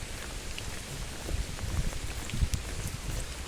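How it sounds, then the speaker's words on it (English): Heavy rain pounds down steadily, a dense hiss of drops striking hard surfaces, close and loud with occasional heavier splashes. "You just see the rain, it's just fucking hammering down."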